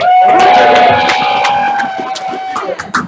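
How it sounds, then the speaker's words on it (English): A game show studio audience cheers loudly at once, a dense roar with whoops and a sustained tonal wail, then thins and fades toward the end. "Cheer on, everyone."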